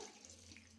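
Water runs in a thin, steady stream, quiet and close, as about a glass of it pours into a pressure cooker holding Malabar spinach and dal for under a second.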